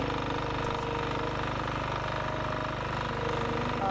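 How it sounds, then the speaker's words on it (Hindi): A mini tractor's engine runs steadily on a farm, a close, even chugging idle with a regular low pulse throughout, no voices over it. "ले आए ये लोहे का बैल, यानी मिनी ट्रैक्टर"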